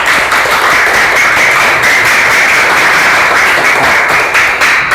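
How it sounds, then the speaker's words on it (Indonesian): Classroom of students clapping for all the groups, a loud, dense, continuous round of applause from many hands at close range, with no talking over it. "Beri tepuk tangan untuk semuanya."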